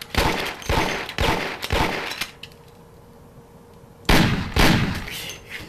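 Bursts of rapid gunfire crackle in clusters in the video game Mafia, pause for a couple of seconds of near quiet, then resume loudly.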